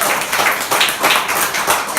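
A church congregation applauding for God during a sermon, a steady wash of many hands clapping at once, loud and close, with no voices over it.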